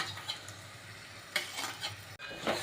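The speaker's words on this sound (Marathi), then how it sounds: "आता आपण ह्याच्यामध्ये ही कालवं टाकून घेऊया" Oysters tipped into a hot pan for Agri Koli oyster masala, crackling close-up sizzle with stirring scrapes and occasional spoon taps against the pan, steady throughout with a few sharper bursts.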